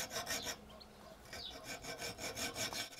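A hand file or saw rasps rhythmically as a slot is cut into an M6 by 20 screw clamped in a vise, steady back-and-forth metal strokes, close and fairly quiet, with no talking.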